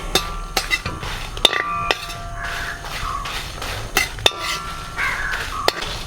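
Dried red chillies and coriander seeds roast in a pan, with repeated metallic clinks and scrapes as a utensil stirs against the pan in an uneven rhythm over a faint background crackle.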